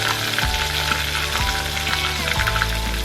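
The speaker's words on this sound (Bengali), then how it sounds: "সেই ব্যাটারটার মধ্যে একটা করে লোটে মাছ তুলে ওতে ডুবিয়ে তেলে ছেড়ে দিলাম।" Batter-coated Bombay duck (lote) fish, dipped in flour and cornflour batter, frying in hot oil: a loud continuous sizzle with sharp bursts as each piece drops in, no talking.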